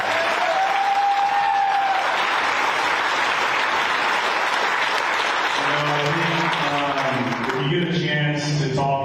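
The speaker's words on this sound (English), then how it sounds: "let's give Dan a big round of applause" A room of guests applauds a retiring 20-year military veteran at a golf championship pairings party, steady dense clapping throughout, with voices talking over it near the end.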